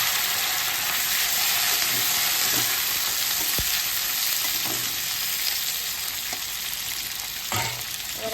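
Papaya and potato pieces frying in a pan with black cumin seeds for an ilish fish curry, giving a steady, loud, continuous sizzle with faint stirring scrapes throughout and no talking.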